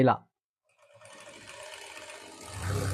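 An electric sewing machine stitches a double seam along a dress, its close, steady whir starting after a brief voice and swelling slightly louder toward the end.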